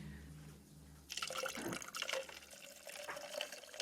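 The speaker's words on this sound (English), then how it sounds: "I'm gonna pour my sparkling ice." A sparkling ice drink poured into a cup, a steady close splashing and fizzing stream that starts abruptly after a low hum and carries on to the end, with no talk.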